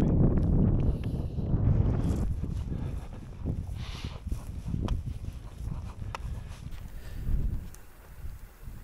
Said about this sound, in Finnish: se tuulee aika kovasti